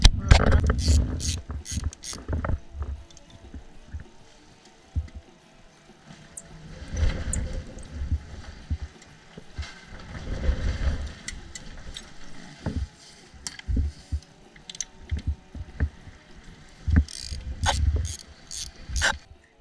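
Wrench work on a motorcycle while taking off parts to reach and replace the rear neutral switch, heard as scattered ratcheting clicks and metallic clanks close by, with quiet gaps and a few dull knocks between bursts.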